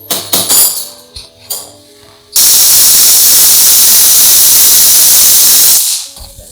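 A pressure cooker with mutton inside lets off a loud, steady hissing burst of steam for about four seconds. It starts abruptly and then cuts off, with some kitchen clatter just before and after.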